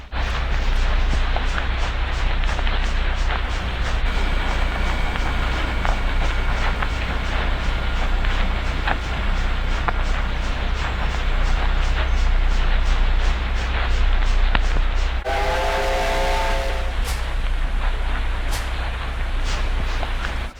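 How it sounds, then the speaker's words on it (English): A freight train hauling grain hoppers pulls away from a siding with a steady, loud rumble and rhythmic rail clatter. A short horn blast sounds partway through, then the rolling noise carries on. "the SU had finished switching its grain hoppers onto that different siding, and is now leaving"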